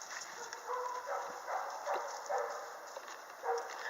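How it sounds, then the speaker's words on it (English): A female pit bull barks in short, repeated yips outdoors around a chicken yard, each bark moderately loud and spaced about half a second apart, with no talking over them. "She's a pit bull who loves chickens"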